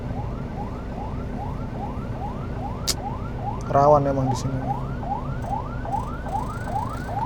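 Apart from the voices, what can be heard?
ambulance siren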